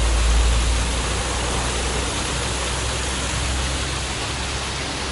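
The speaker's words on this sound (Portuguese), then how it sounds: "E a cascata." A small waterfall cascade spills into a park pond in Málaga, a dense, steady broadband rush of falling water, loud and continuous throughout, with a low rumble underneath and no voices.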